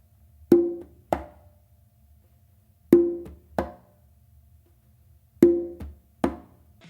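Sharp conga slaps leading into tumba tones, played in three short pairs of crisp hand strikes separated by pauses, close and dry with no talking.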